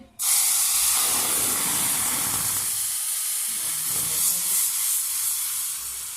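Sauce poured into hot oil in a pan for chicken malai boti, setting off a loud, steady sizzle and hiss that swells at the start and carries on for several seconds without speech.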